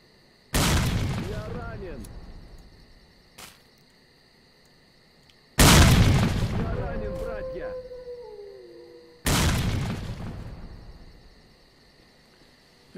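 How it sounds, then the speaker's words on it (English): Three booming grenade blasts in a video game, each a sudden loud burst followed by a long rumbling decay, spaced a few seconds apart against a quiet background. "I'm sneaking in here with a grenade."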